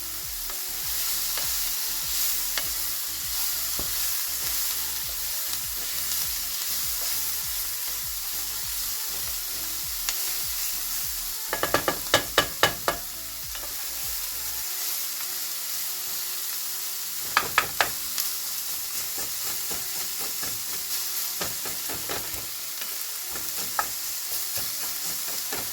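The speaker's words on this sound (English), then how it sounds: "I like garlic, so about that much. Let's turn our fire down a little bit." Garlic sizzles steadily in a hot pan while a utensil stirs it, with bursts of sharp scraping and clattering against the pan partway through.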